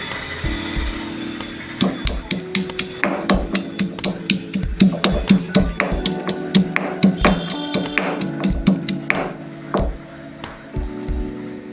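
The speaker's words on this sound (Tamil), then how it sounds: "அதை போட்டு இடிச்சுக்குவோம்." Four or five garlic cloves are pounded for rasam with a run of steady, evenly spaced thuds and knocks, close and fairly loud over a faint tonal background.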